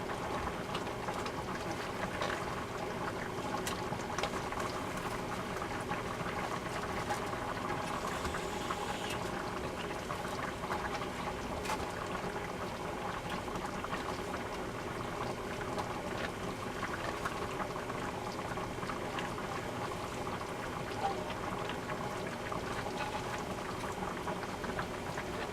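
A pot of broth with fish added keeps up a quiet, steady boil, its continuous low bubbling and popping running evenly from start to finish.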